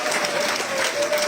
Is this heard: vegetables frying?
no